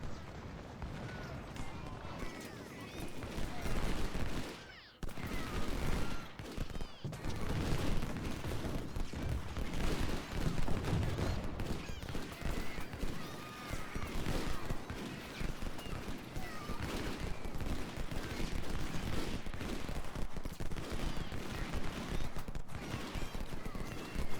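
Massed soldiers fire in Ultimate General, a Civil War strategy game: a dense, continuous crackle of musketry and volleys rolling on for many seconds, mixed with hoofbeats and other battle noise.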